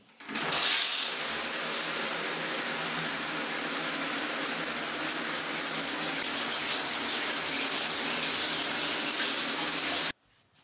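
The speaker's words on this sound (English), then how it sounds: "I'm gonna hop in the shower now, get all washed" Shower water runs in a steady loud hiss for about ten seconds, starting abruptly and cutting off cleanly, close by with no voices.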